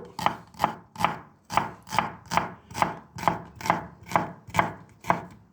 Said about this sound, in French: on épluche une échalote qu'on va couper en petits morceaux